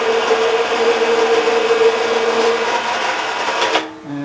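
Pedal-operated bead roller running a bead into a clamped piece of sheet metal, a loud steady mechanical whir that holds for several seconds, then cuts off abruptly and leaves a quieter hum.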